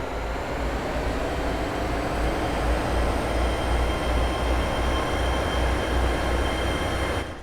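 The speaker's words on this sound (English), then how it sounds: "the 802 does use quite a lot of sounds ported over from the Class 377 for some reason" GWR Class 802/0 IET train in Train Simulator on a test run to Paddington, with a steady loud rolling rumble and wheel-on-rail noise that carries on continuously before cutting off at the end.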